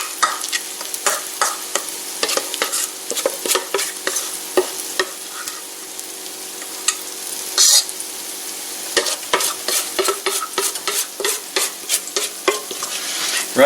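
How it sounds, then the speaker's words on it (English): Cornbread batter sizzles and crackles in a hot skillet, with scraping and stirring clatter on and off throughout, no voices. "Y'all hear that sizzle around outside that?"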